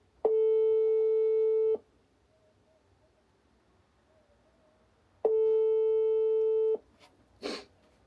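A phone line tone while a call waits to be answered: two long, steady, loud beeps about three and a half seconds apart, each lasting around one and a half seconds, followed by a brief soft noise.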